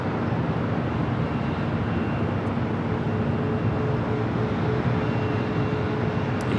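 An Air France airliner departing LAX at night gives a broad, steady roar of jet engine noise, continuous and fairly loud from start to finish.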